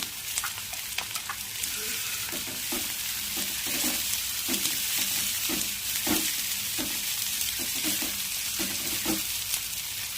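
Onions and tamarind roast lightly in hot oil for a tomato chutney, a steady close sizzle broken by regular scraping stirs of a spoon against the pan, with no talking.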